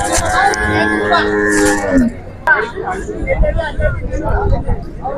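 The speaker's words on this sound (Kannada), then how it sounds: "ಇವತ್ತು ಬಹಳಷ್ಟು ಎತ್ತುಗಳು ಬಂದಿವೆ" Bulls lowing with long drawn-out moos over a busy, noisy crowd of murmuring voices at the Sindhanur outdoor bull market in Karnataka.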